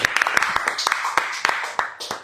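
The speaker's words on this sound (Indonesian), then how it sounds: "Tepuk dulu. Informatika sudah unggul." An audience claps in a brief burst of sharp, uneven hand claps, moderately close, mixed with voices.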